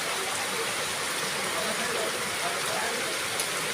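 Continuous rain hisses evenly over an open field where water is pooling, heard from some distance as a steady broadband wash.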